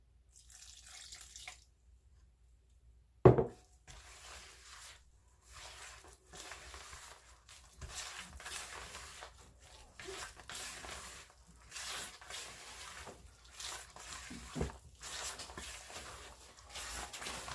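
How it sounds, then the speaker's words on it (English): Soft wet stirring of coconut milk into a sweet potato pudding mixture in a bowl, faint scraping and sloshing strokes repeating unevenly over quiet background, with one sharper knock early on. "coconut milk, little by little. And then just stir it, bring it round."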